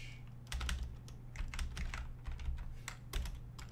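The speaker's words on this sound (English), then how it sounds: "Keyboard, stop it." Rapid typing on a computer keyboard, with quick uneven clusters of clicky keystrokes running steadily throughout, close up over a low electrical hum.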